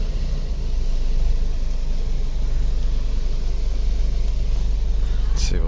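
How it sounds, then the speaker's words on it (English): A 2007 Chrysler Sebring with a 2.4-liter engine and a new transmission solenoid pack backs slowly across a lot, heard from inside as a steady low engine rumble and road noise throughout. "Let's back up to the end of the lot."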